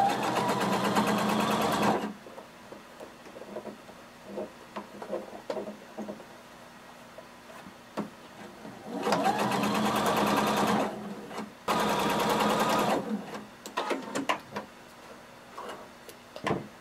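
A sewing machine runs in three bursts, stitching a jumpsuit facing about an eighth of an inch from the seam line, with quiet handling and ticking sounds between the runs.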